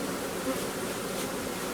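A swarm of bees hangs in a tree and hums steadily, a dense close buzz that holds without a break.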